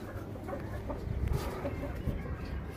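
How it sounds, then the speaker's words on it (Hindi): Hens clucking at close range in a backyard coop, short soft clucks scattered irregularly over a quiet background. "हमारी दो नई मुर्गियाँ"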